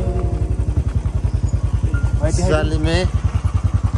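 A motorcycle ridden through a rural village throbs with a steady, close, rapid engine pulse throughout, while someone speaks briefly over it partway through.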